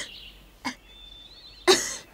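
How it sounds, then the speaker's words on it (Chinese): A young lady coughs in a quiet room late at night: one short, soft cough, then after a pause a louder, harsher cough, with no talk around them. "怎么又咳嗽起来了？"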